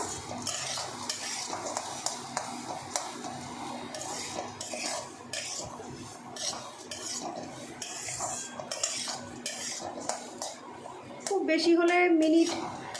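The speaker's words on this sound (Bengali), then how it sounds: "দেড়েক থেকে দু মিনিট মতন একটু ডালটা আমি ভাজছি" Masoor lentils fry in a pan while a spoon scrapes and stirs in quick irregular strokes, with a soft sizzle beneath and a louder burst of sizzling near the end; a voice speaks now and then.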